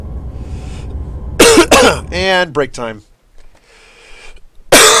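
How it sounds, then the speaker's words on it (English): A person coughing loudly in harsh, close bursts, a couple of short ones and then a longer fit, with a brief spoken phrase and a quiet game background between them. "I'm coughing so much."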